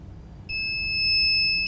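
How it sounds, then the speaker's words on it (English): A buzzer on an ultrasonic obstacle-detecting walking stick sounds a single steady, piercing electronic tone lasting about a second over low background hum, close and with no talk. "the buzzer will produce the sound"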